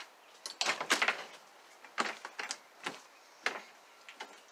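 A motel room door at the El Camino Motel in Cherokee, North Carolina is opened, giving close, uneven bursts of rattling clunks and scrapes with no talking.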